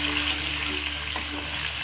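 Onions and tomatoes fry in a pan as the base for a homemade desi mutton nihari, a steady close sizzle with faint watery bubbling, alone and without talk.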